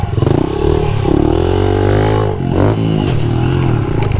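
A pit bike revs and works its engine on a mini arenacross track, loud and close, with the motor note rising and falling through throttle changes and some clattering.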